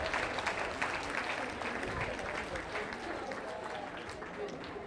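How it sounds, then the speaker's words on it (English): Staff at an all-staff training meeting clap together in a moderate round of applause that starts strong and softens slightly. Speech-like murmur blends in underneath. "Please give a round of applause to our flip chart stands."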